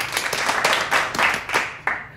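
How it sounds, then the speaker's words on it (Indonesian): A church congregation at a Sunday worship service claps together, giving a dense, steady patter of many hands with a few louder swells near the end. "kita beri tepuk tangan untuk Tuhan kita"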